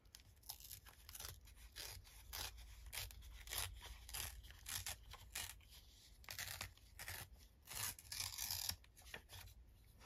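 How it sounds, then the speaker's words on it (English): Paper being torn up by hand for a junk journal page, a steady run of short, close ripping and crinkling bursts repeating every second or so with no voices. "rip up"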